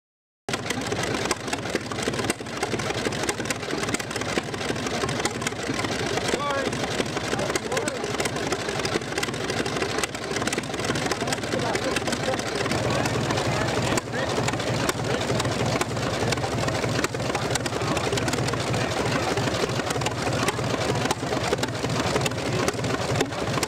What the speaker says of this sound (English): A Holt 120 power unit at the Antique Gas and Steam Engine Museum in Vista,